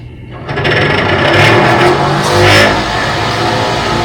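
A small game feeder motor whirs steadily and close by, its pitch rising and falling slightly as it runs for several seconds, with no voices.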